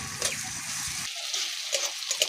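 Ginger garlic paste frying in a pan for an egg curry, a steady hiss of sizzling oil with soft stirring scrapes, close and continuous, without voices.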